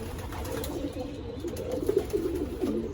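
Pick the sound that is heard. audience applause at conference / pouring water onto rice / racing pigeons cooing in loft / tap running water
racing pigeons cooing in loft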